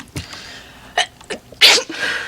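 A single sharp human sneeze bursts out loud and close after a few smaller breathy sounds, with no talk during the sneeze.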